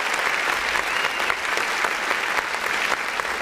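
A crowd applause sound effect plays on an independent artist music review show, a steady wash of dense clapping that holds at an even level throughout, with no voices over it.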